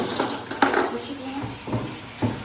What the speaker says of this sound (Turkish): Normal kaşıkla karıştırıyorum.